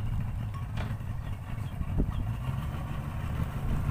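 A speedboat engine idles with a low, steady rumble, fairly close and continuous, carrying a few faint knocks and no voices over it.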